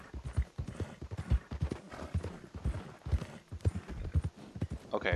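A horse gallops in Red Dead Redemption 2, its hooves pounding in a quick, steady clip-clop rhythm that stays close and loud throughout, with no speech over it.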